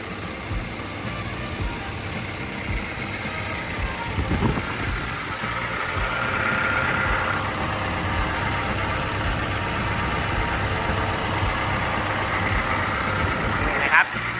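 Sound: Hino engine of Kobelco SK210DLC-8 20-ton excavator idling

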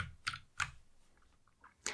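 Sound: typing keyboard shortcuts on a computer keyboard in Xcode

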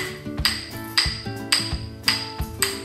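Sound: tilted rhythm sticks hammered together

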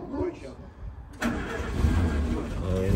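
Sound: tracked jeep engine starting

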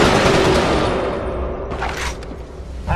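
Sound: gunfire in the video game Resistance 2

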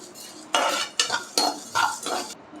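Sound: dry roasting coriander, fennel and cumin in a pan

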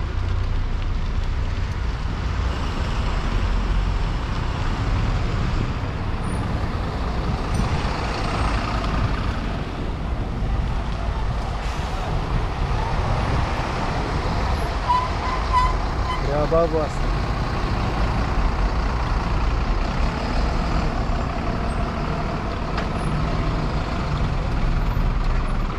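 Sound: road traffic noise with trucks

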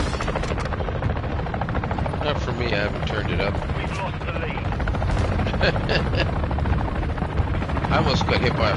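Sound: helicopters in video game Modern Warfare III

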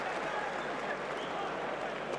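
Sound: applause for the boxers after the fight

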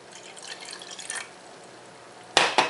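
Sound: pouring water into honey to make baklava syrup

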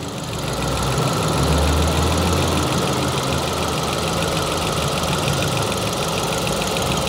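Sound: Ford Focus 2.0 car engine idling smoothly

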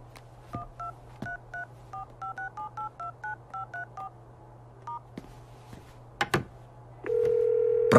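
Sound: telephone dialing tones while dialing a mobile number

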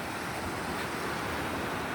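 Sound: sea waves on a beach

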